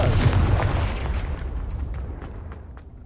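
Confringo fire blast spell in Hogwarts Legacy, a single loud booming burst at the start that decays into a rumbling tail with faint crackles.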